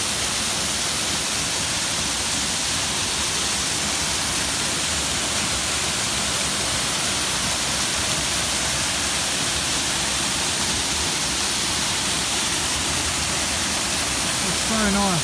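Dense, continuous roar of rushing water from Binna Burra Falls in Lamington National Park, loud and unbroken from start to finish.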